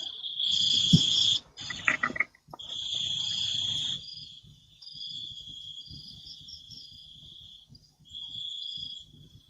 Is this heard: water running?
no